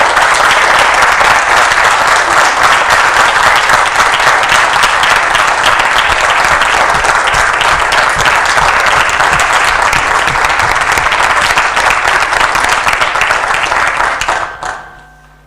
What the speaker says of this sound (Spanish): Ahora sí pueden dar un tremendo aplauso por todo el trabajo de los muchachos